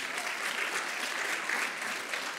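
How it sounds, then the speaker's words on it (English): An audience applauds during a sermon at a church gathering, a continuous wash of many hands clapping at moderate distance, even and unbroken. "But we can clap. That's good."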